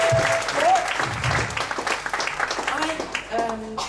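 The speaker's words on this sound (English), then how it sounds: "But can I have one round of applause?" Applause from a comedy show audience in Ubud, Bali, a dense wash of clapping that fades into scattered claps, with voices and a few tonal sounds mixed in.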